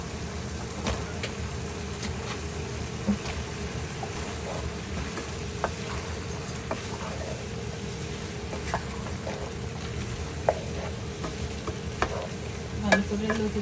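Kochur lati and jackfruit seeds stirred in a pan, a continuous dense sizzle with frequent scraping and clinking of a spatula, steady and close throughout.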